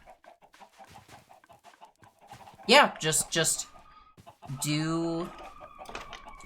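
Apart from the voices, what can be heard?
chickens clucking in Minecraft video game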